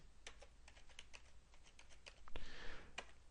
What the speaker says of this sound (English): We type in 2 million.